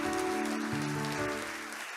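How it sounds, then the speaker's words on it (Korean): An audience applauds at a research group launch ceremony, producing a dense, steady patter of clapping that fades slightly toward the end, with low tonal music humming beneath it. "여러분 큰 박수 부탁드립니다"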